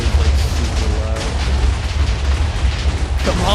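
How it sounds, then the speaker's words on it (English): A Minecraft explosion in nightmare mode rumbles as a loud, sustained low boom that fills the whole stretch, with brief game-like tones drifting over it and no clear talking. "I got hit by the explosion and got literally knocked up to block height"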